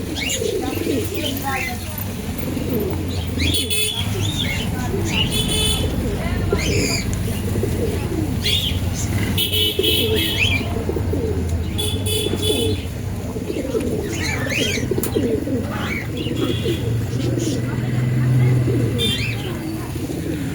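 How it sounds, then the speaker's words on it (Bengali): Pigeons in a Bengali pet shop coo repeatedly in soft, throaty bursts, with scattered chirps from other birds, while someone talks over them. "পায়রার ডাক দেখুন"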